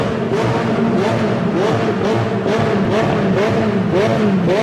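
A McLaren 720S engine revving hard with its exhausts, a loud steady roar with rising and falling pitch sweeps throughout, close and dominant with no talk.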